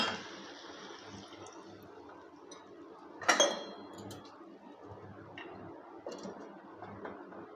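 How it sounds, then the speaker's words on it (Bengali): A metal lid clinks down once onto a pot of pumpkin ghonto after a little water is added, a sharp single clatter amid quiet kitchen background noise. "এবারে অল্প পরিমাণ জল দিয়ে ঢাকনা দিয়ে দেব।"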